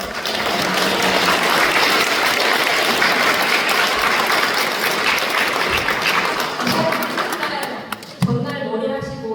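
A congregation at a Won Buddhist temple's dharma-rank promotion ceremony gives the young members a loud round of applause, sustained and dense for about eight seconds before it fades and a person starts talking.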